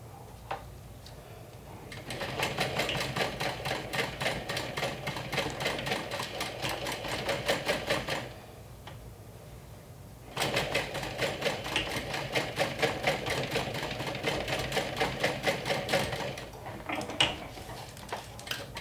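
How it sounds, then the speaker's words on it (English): A sewing machine top-stitches a folded 1-inch webbing strap for a saddle bag, running in two steady bursts of fast rhythmic stitching, close and clear, with a short pause between them and no talking. "I'm gonna fold it and top stitch it."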